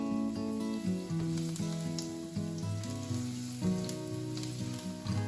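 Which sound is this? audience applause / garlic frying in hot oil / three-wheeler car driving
garlic frying in hot oil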